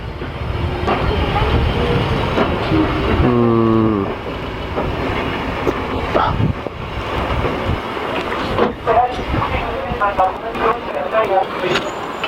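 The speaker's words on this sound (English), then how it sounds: "So the train has arrived." A tourist railway train on the Mornington heritage line pulls in, its rumble and clatter filling the scene with a short horn-like tonal blast, while people chat nearby.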